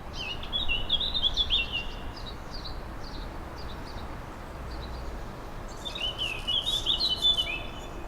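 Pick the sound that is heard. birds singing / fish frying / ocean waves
birds singing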